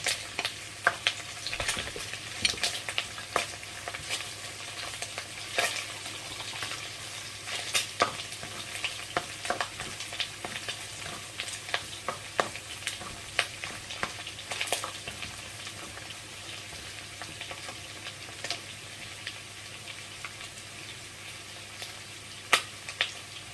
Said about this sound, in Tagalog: So, mix natin yung bawang